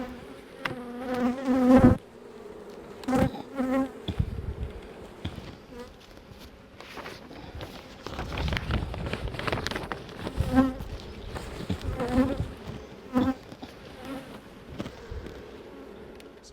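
Honey bees buzz around an open hive, a dense droning swarm with louder passes as individual bees fly close to the microphone, mixed with light handling sounds and no speech.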